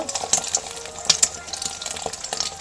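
Eggs fry in oil in a pan for egg fried rice, giving a soft, close sizzle scattered with small crackles and pops.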